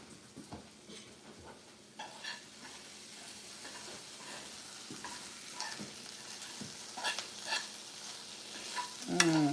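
Onions fry in a pan with a faint, steady sizzle, broken by scattered scraping and stirring clatters. The sizzle grows a little louder toward the end and ends in a sharp clink, with no voices.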